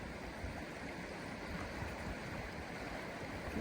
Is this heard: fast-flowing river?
yes